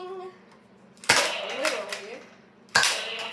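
Foam darts fired from Nerf blasters about eight feet away, heard as two sharp pops roughly a second and a half apart with a rattling mechanical burst between them, alongside faint voices.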